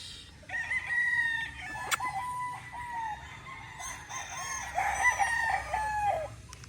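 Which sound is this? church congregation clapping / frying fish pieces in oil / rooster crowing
rooster crowing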